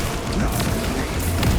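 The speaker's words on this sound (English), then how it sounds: "Unleashing frag grenade." A frag grenade detonating in Warhammer 40,000: Space Marine 2 gives a deep, loud boom amid dense battle noise, with a sharper burst near the end and a voice faintly present underneath.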